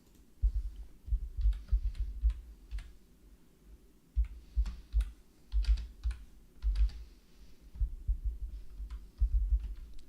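Irregular bursts of keystrokes tapping on a computer keyboard, fast clattering runs separated by short pauses, close and fairly loud with no talking.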